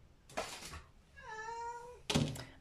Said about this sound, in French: Attendez, j'ai un chat qui veut sortir.